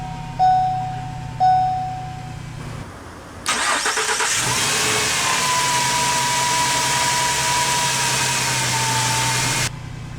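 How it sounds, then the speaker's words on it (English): A 2018 Ford Transit-250 full-size cargo van sits quiet after two soft chimes, then the engine cranks and catches with a loud start, settling into a steady, close idle that hums evenly until it cuts off. "let's go ahead and start the engine."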